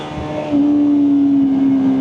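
Motorcycle engine revved against a worn, slipping clutch, rising from idle to a sustained high steady drone that holds without gaining speed, loud and close.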